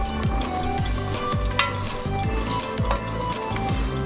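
Binignit with cassava and taro being mixed in a cooking pot, heard as steady scraping strokes of a utensil against the pot, roughly every half second, over a constant bubbling sizzle with light metallic clinks.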